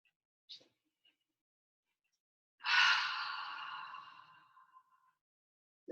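A single long, breathy exhale during a guided breathing exercise in a class setting, close and clear, tapering off over about two seconds, with a faint short breath earlier and near silence around it.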